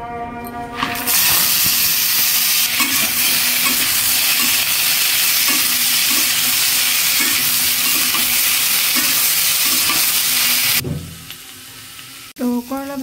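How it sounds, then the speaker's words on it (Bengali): Bitter gourd slices fry in hot oil, a loud, continuous close-up sizzle and hiss with faint stirring taps that cuts off near the end, followed by a brief quieter moment. "তো করলা ভাজি করার জন্য তেল দিয়ে দিয়েছে, তেলটা গরম হয়ে গেছে।"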